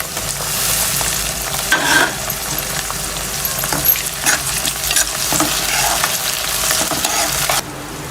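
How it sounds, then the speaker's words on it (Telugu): Tomato and onions frying with curry leaves in a pan for leftover-rice egg fried rice make a steady, close sizzle broken by repeated scraping stirs, heard alone without talk. "టమాటా ఎర్రగడ్డ బాగా అయితే వేగేసేయి."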